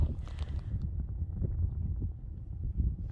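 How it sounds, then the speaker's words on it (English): Wind blowing on a mountain trail near a snow-capped peak, a low rumbling buffet against the microphone that holds steady and loud throughout. "Now you can hear the wind."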